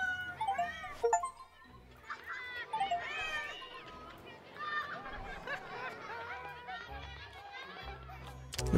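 A cat in the Hidden Cats in Spooky Town game meows several times in quick succession, the calls mixed with other busy game sounds and fairly soft overall.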